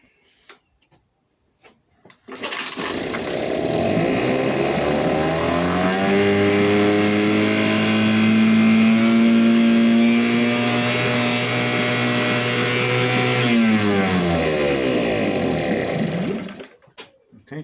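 A Yamaha Suzuki 2.5hp outboard motor pulled into life and running, a loud buzzing two-stroke drone that climbs in revs, holds steady for several seconds, then falls away and cuts out, with no talking.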